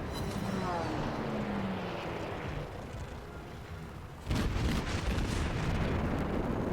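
Naval guns fire armor-piercing shells in a warship video game: a steady engine-like rumble gives way to a loud, broad booming salvo that rolls on to the end.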